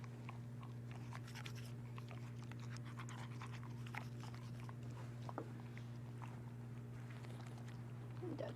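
A dog pants in short rapid breaths during a home teeth-cleaning session, with light chewing and mouth noises close by over a steady low electrical hum.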